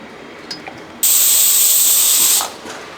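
A loud, sharp hiss of steam bursts from a pressure cooker and holds for about a second and a half, then cuts off abruptly.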